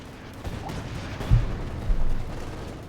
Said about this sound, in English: Prabuti unleashes a bazooka volley against those sandbags.